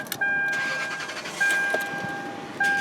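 A 1998 Lexus LS 400 with the 1UZ V8 cranks and fires to life, a brief start from inside the cabin accompanied by chime tones, settling into a smooth idle.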